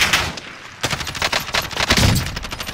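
Video game gunfire in a battle royale match, dense bursts of automatic shots and sharp cracks coming in rapid clusters, loud and close, with a brief lull before the shooting resumes.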